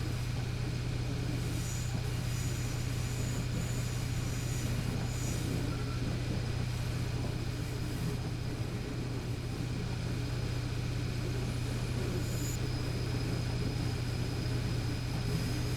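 A steady, droning diesel engine of a DB BR361 diesel switcher locomotive in Train Simulator Classic roars continuously at full throttle, with a constant low hum and faint intermittent squeals above it.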